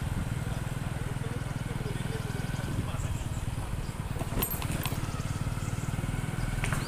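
A motorcycle engine runs at a steady idle, putting out an even low throb that fills the scene, with a few brief clicks and rattles near the end and a voice talking faintly over it.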